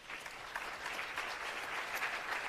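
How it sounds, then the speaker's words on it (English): A large audience at a launch event for technology centres of excellence gives a sustained round of applause, dense even clapping that carries on steadily without talk. "may you all give yourselves a very big round of applause"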